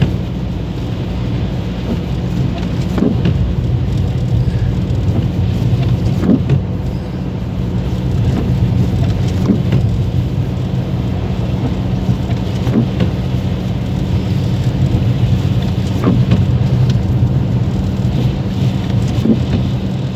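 A stormy bora wind blows around a car driving through a snowstorm, making a loud, continuous roar with dull periodic thumps and no voices.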